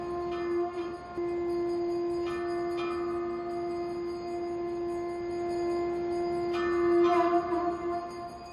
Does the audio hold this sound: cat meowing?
no